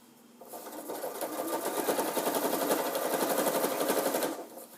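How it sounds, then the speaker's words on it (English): A sewing machine runs steadily for about four seconds, stitching binding straight across close to a folded edge, a fast even needle rattle that starts and stops abruptly. "Now I'm going to backtrack at the beginning all the way to the edge, and then sew straight across."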